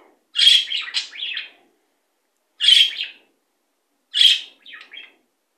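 A budgerigar chirps in three short warbling bursts, close and clear, separated by brief silences.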